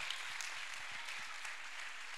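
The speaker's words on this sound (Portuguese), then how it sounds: "Aplauda Jesus se você é crente." A church congregation at a youth congress claps together, a soft, steady patter of applause lasting a couple of seconds, heard from a distance.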